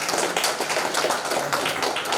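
An audience at a network launch event claps, producing a brief, continuous patter of many hands at close range with no talking.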